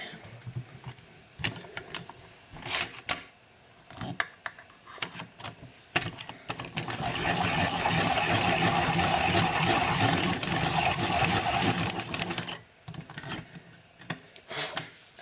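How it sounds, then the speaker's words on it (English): Colored pencils, a batch of purples, are sharpened in a pencil sharpener nearby: scattered clicks and handling knocks, then a sustained grinding rasp for several seconds before more light clatter, with no talk. "I'm gonna sharpen all of my purples while I'm at it."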